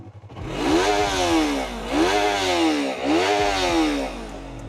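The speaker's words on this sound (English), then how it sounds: "the bike does still sound really nice for a 300" A Yamaha R3 300cc motorcycle with its stock exhaust revs up loudly three times in succession, each rev rising and falling in pitch, close and without any speech.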